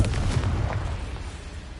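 Confringo spell explosion in Hogwarts Legacy, a booming low blast with a rumbling decay lasting under two seconds, fairly loud and up close.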